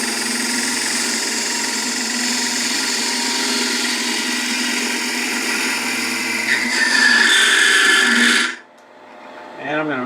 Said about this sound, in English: I'm going to use my 8mm beading and parting tool.